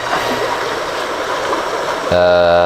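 Two river currents meet at a confluence, their rushing water a steady, close, full roar. A tonal hum enters near the end.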